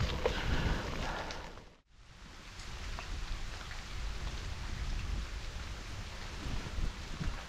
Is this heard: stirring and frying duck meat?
no